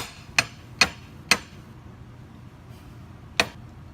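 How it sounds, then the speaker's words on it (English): A tablet mold plate filled with powder is tapped on a counter four times, three sharp knocks in quick even succession, then a pause before a final knock. "tap the plate on the counter to help settle the powder into the holes"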